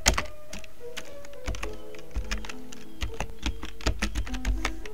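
Rapid keystrokes on a computer keyboard as a command is typed at a software prompt, a steady run of sharp clicks and thunks close by, with no talking.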